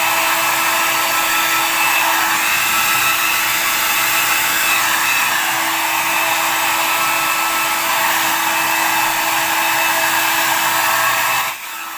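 A KMT Style hair dryer blowing on hair makes a loud, steady, close whir with a constant high whine, running without a break for about eleven seconds before it drops off abruptly at the end, with no voices.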